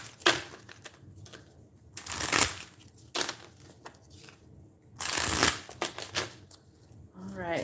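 Tarot cards being shuffled in several brisk riffling bursts, close and crisp, with a soft voice speaking in the gaps between them.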